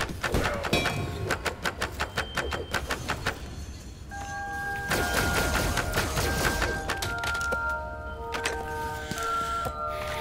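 Rapid gunfire rattles in the video game Five Nights at Freddy's: Help Wanted 2, fast repeated shots in bursts, followed by a stretch of chiming electronic game tones and more mixed game sounds, loud and close.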